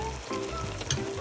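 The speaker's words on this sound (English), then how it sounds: "Now I'm going to add 1 tablespoon of ginger garlic paste." Ginger garlic paste sizzles and fries steadily in a hot pan, close and continuous with a brief spatter burst midway.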